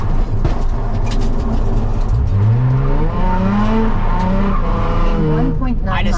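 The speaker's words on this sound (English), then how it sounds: "Coming up to a stop sign, it's all gravelly. Let's have a little fun. E-brake fun." Car sliding on a gravelly road under the handbrake, a loud engine drone with rising pitch and a crunching, skidding wash from the tires, heard from inside the car with a voice speaking over it.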